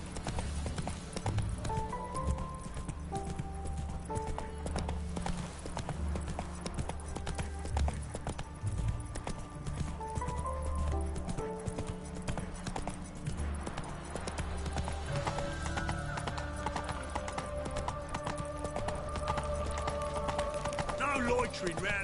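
Roach, Geralt's horse in The Witcher 3, gallops with steady rhythmic clip-clop hoofbeats over low rumbling game ambience and music, continuous and fairly loud throughout.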